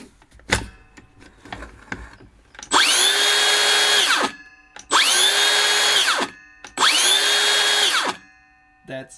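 A Makita cordless power saw on an 18-volt battery revs up loudly three times in quick succession, each burst a high whining drone lasting over a second, with brief clicks before.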